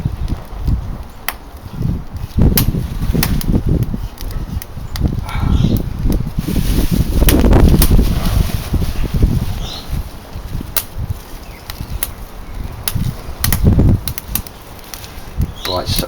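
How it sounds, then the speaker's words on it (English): Strong wind gusting outdoors in wet, cold weather, a steady roaring buffet with rising and falling surges and rustling, loud and close, peaking mid-way. "there's a fair old portion of wind there"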